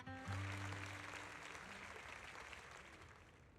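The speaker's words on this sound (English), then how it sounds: "Zoe's speech is met with a wave of applause." Crowd applause rising after a speech in a Hoyoverse game cutscene, a broad wash of clapping that swells at once and then sustains slightly softer, with a low musical tone underneath at the start.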